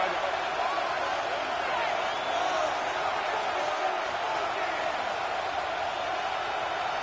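A steady roar of stadium crowd noise from the Madden football video game fills the background without pause, broad and even, with a commentator's voice running over it.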